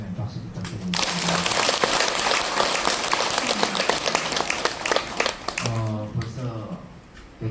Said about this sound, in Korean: 잘 오셨다 생각하면 박수 부탁드리겠습니다